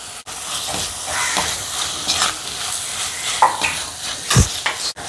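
Ground masala paste fries in a pan for a banana-flower curry, a steady close sizzle and hiss broken by scraping stir strokes and a few louder pops, with no talk.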